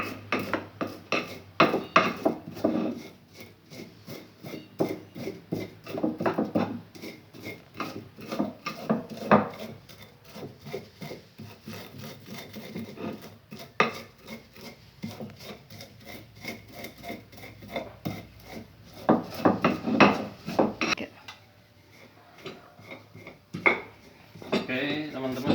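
Coriander seeds are ground in a stone cobek mortar with a steady, gritty rubbing and scraping of stone on stone, repeating in close, uneven strokes for a long stretch, with occasional talk over it.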